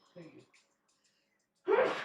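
One sharp, explosive sneeze bursts out close by at the end, after a few soft breathy vocal sounds and a moment of near silence.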